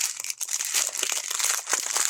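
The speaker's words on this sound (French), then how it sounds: "Quand j'aurai réussi à ouvrir le sachet." Plastic sachet of diamond-painting gems being pulled open, crinkling and crackling steadily up close with short sharp rustles throughout, no voices.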